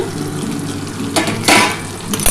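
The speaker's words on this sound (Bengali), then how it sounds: "দেখো আমি ঢাকাটা খুলে রেখি" A lid comes off a frying pan of potato, bitter gourd and pointed gourd cooking with fish oil pouch. A brief metallic clatter is followed by a surge of loud sizzling from the hot pan, close by.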